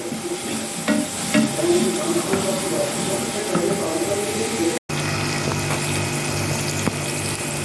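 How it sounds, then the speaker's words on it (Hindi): Spice masala for karela gosht is stir-roasted in a pan, making a low sizzle with irregular scraping stirs. A short break cuts in midway, a steady hum follows, and speech is present. "अब इसकी थोड़ी सी भुनाई करेंगे ताकि हमारे मसाले जो हैं अच्छी तरह से मिक्स हो जाएं"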